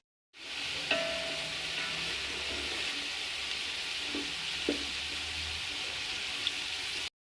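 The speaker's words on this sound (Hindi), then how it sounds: "हाई फ्लेम पर मटरों को फ्राई होते हुए 2 से 3 मिनट हो गए हैं।" Shelled peas sizzling in a pan over high flame, a steady loud crackling fry throughout with a few soft clinks of stirring, no voices.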